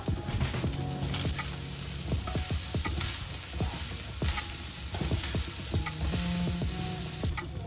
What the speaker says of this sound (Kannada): ಈ ತರ ನೀಟಾಗಿ ಮಿಕ್ಸ್ ಮಾಡ್ಕೊಳ್ಳಿ